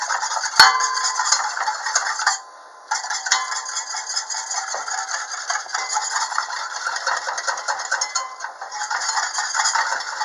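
A whisk scrapes rapidly and steadily against a metal pot, stirring a milk and flour mixture over a medium flame, with one brief pause partway through.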